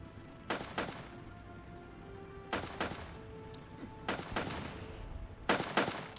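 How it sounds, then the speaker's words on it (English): Grenade blasts and gunfire in the Armored Brigade war game: sharp paired bursts of shots repeat every couple of seconds, fairly close and loud over a low battlefield hum, with no talking. "they are throwing grenades"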